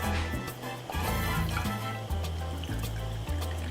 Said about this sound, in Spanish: Y ahora voy a agregar el agua a este arroz.